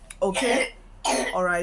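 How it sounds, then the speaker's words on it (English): A child coughs in the background of a room, two short bursts of throaty coughing on either side of a brief pause, with an adult voice talking alongside. "sorry that my kids are around, so one is having cough"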